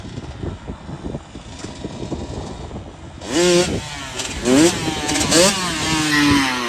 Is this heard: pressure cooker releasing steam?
no